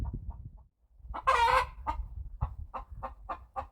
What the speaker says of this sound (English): My chicken's trying to get up.